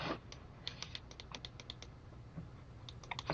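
A run of quick, light plastic clicks in uneven bursts, close and fairly quiet, like a computer mouse being clicked repeatedly during a Blender tutorial, with a low room hum beneath and no speech.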